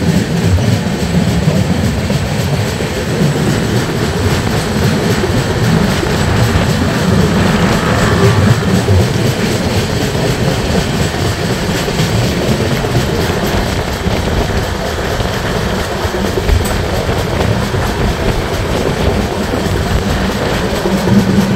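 The Mithila Express rolls steadily on its rails, a loud continuous rumble with faint rhythmic clickety-clack heard from inside a 2AC coach.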